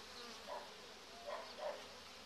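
Honey bees hum steadily around an open hive colony during an inspection, a close continuous buzz with a few louder passes of individual bees.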